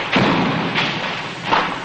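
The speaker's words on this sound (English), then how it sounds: "This gunfire that you can hear is pretty close" Close gunfire during the 1968 fighting in Saigon, near the South Korean Embassy, comes as three heavy, muffled thuds spaced under a second apart, loud and near.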